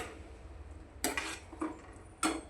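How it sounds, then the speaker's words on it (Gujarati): Corn kernels are sautéed in a pan and stirred with a utensil. A quiet background hiss is broken by three sharp metallic scrapes and clinks spaced about a second apart. No one talks. "હવે આને આપણે 2 મિનિટ સાતળી લઈશું।"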